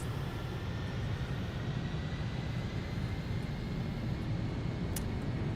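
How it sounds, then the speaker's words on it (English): Boeing 747-200 Classic engines in X-Plane 12 hold a loud, steady broadband roar during the takeoff roll, with no talking over it. "we are cleared for takeoff"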